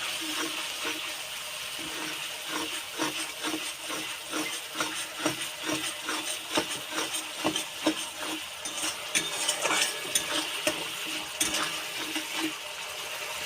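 Spiced masala with whisked curd being stirred and fried in a pan for a katla fish curry, soft sizzling under repeated scraping and clinking of a spoon against the pan, close and fairly quiet with no talk.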